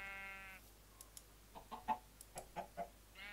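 An iron chicken in the Minecraft modpack Sky Factory 3 clucks in a quick series of short, close clucks after a brief tonal game sound, with another tone starting at the end.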